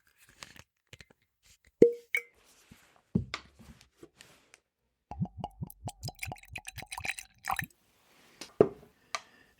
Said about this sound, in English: So let me pour a little bit of this into my Glencairn.